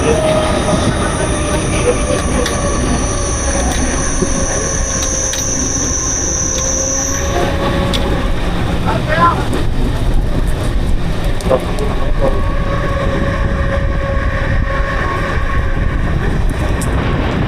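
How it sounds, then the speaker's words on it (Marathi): A train rolls past loudly and close during heavy Mumbai monsoon rain, with sustained high-pitched wheel squeal, rumbling carriages and rhythmic rail clatter filling the whole passage. "खूपच जोरात ट्रेन जाते"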